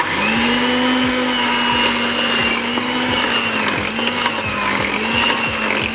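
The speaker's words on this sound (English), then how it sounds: "I'll be using my mixer to bring this all together, so that we are whisking at medium speed." An electric mixer whisks pumpkin cake batter at medium speed, producing a loud, close, continuous motor whine with a faint, steady, repeating beater rhythm and no speech.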